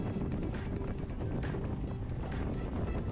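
Road-race cycling wind roars steadily past the microphone, a dense, loud and constant rush with slight flutter throughout.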